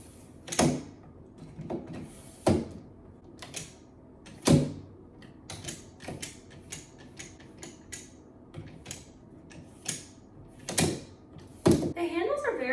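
The telescoping handle of a Level8 Luminous 24-inch checked suitcase being raised and lowered, giving a run of clicks, clacks and sliding rattles at uneven intervals over a quiet background, with a brief high squeak near the end.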